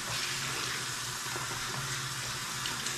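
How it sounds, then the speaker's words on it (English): Hands being washed under a running tap at a sink, a steady loud rush of water with faint splashing and no speech. "I wash my hands off the main stuff on it."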